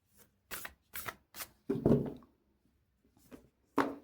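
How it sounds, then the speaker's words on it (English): Close, quiet riffles of a tarot deck being shuffled, coming in separate bursts with short pauses between them, then one longer shuffle and a final riffle after a gap. "I'm going to shuffle again."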